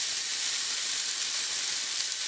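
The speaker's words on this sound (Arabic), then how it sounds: "شايفين اهو عماله اقلب فيها على نار عاليه" Chicken shawarma sizzles in a pan over high heat while being stirred, a steady, close, bright frying hiss with no voices.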